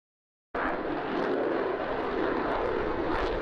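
F-35 Lightning II single-engine stealth jet, a sudden loud broadband roar that starts abruptly and holds steady for about three seconds, heard alone without any voices.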